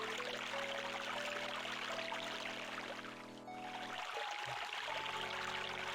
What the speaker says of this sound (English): It sounds like I broke the fountain.